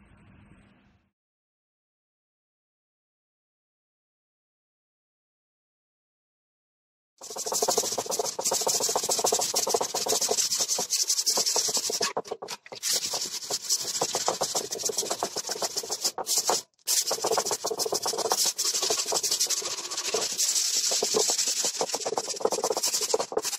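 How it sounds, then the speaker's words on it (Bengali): Wet sanding with 120-grit waterproof paper on a dented Bajaj Avenger motorcycle fuel tank makes a steady, close, hissing scrape that runs on continuously, broken by a few brief pauses, after a long silent start. "এখন আমরা 120 ওয়াটার পেপার দিয়ে এটাকে সম্পূর্ণ ঘষে একটা ফিনিশিং আনবো"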